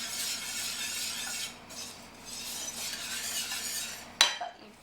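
A spoon scrapes and swirls through chicken gravy in a metal pot, a steady soft rasping stir with a brief pause, ending in a sharp clink against the rim.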